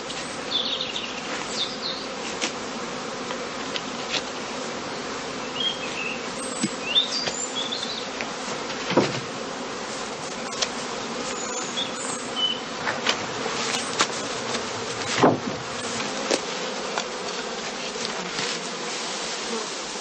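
A swarm of honey bees drones around straw skeps on open heathland, a dense, continuous buzz that is loud and close with individual bees flying past, and no voices.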